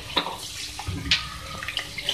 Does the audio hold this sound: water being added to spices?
yes